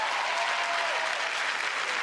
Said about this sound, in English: give Kid Capri a round of applause.